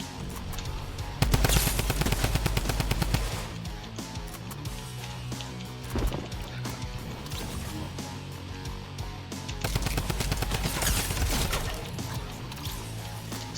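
Rapid bursts of Thompson submachine gun fire in a video game, loud and dense, with sustained volleys at the start and again near the end over a busy game soundscape.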